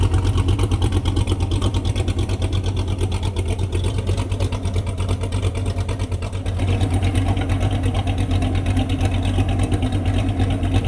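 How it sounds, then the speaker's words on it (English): A Chevrolet C8 Corvette idles in a dyno shop, a loud, steady, close engine rumble with a fast even pulse that shifts slightly partway through and continues without talk. "let's hear that idle"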